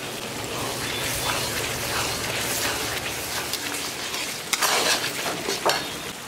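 Spice paste with ginger and salt frying in a pan, a continuous dense sizzle with occasional scraping stirs and a couple of sharper crackles near the end.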